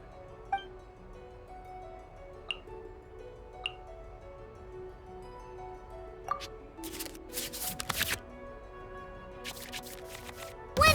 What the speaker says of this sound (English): we can select any number of cards in our hand to shuffle back into the draw pile